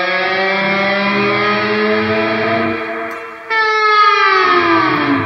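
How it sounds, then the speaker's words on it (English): Background guitar swells from a Line6 Helix preset for a song's solo break, sustained harmonic-rich tones that fade slightly and then swell back with gliding, echoing pitch, loud and without talk. "So the next preset we have are these background swells that happen in the musical break"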